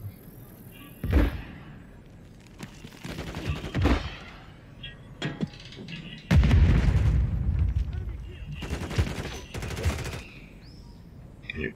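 Gunfire rings out in Call of Duty Modern Warfare 3 during a long-distance headshot: several sharp, booming shots and bursts with heavy low rumble, spaced irregularly across the scene, with someone talking between them.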